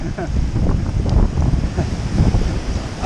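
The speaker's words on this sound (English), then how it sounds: "My camera's in the middle of a wave, the water's gone splashing around the tripod." Sea waves in Malta surge and splash around a camera tripod standing in the surf, a steady close wash of churning water with gusty wind buffeting the microphone throughout.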